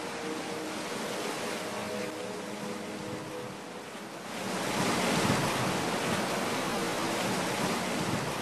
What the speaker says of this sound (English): At high tide, the waves and the boats come very near to the hotel yard.